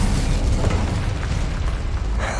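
The Incendio fire spell in Hogwarts Legacy bursts into a loud, rumbling, roaring blast of flame that fills the whole moment with dense, boomy noise.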